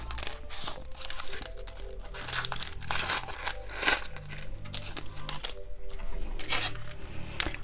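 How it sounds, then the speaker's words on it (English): Coins clink and jangle continuously as they are taken out and handled during cash envelope budgeting, with scattered sharper metallic drops over a busy, close rattling texture. "Alright, so let's take out our coins."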